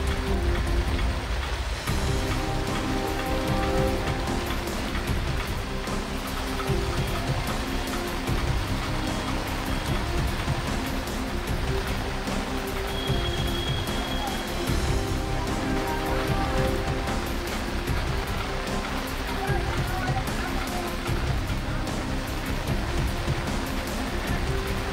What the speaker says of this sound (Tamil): கனமழையின் காரணமாக சாலைகளில் முழங்கால் அளவு தேங்கிய மழை நீரில் மக்கள் நனைந்தபடியே நடந்து